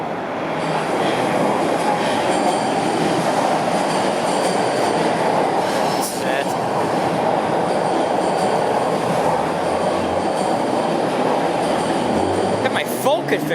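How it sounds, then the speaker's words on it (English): A subway train rumbles continuously below, a dense roaring wash with faint wheel squeals rising from a street ventilation grate on Yonge Street in downtown Toronto, loud and steady throughout. "Always love hearing the sounds from the ventilator."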